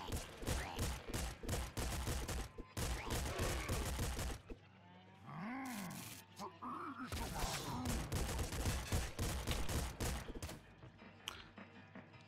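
Rapid bursts of Director shotgun fire in the game Nuclear Throne, a dense run of loud blasts, a short pause filled with other game effects and squeals, then another long volley.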